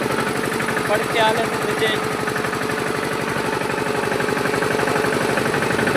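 A tractor engine runs in a farm field while bunds are being built, its steady low chugging throbbing loudly throughout, with a person talking over it.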